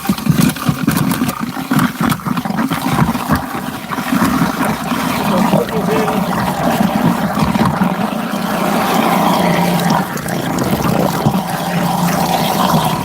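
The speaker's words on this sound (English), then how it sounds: "And turn on some water." Tap water runs into a food waste grinder as it keeps turning, a dense, continuous rushing wash over a low motor rumble, near and steady throughout.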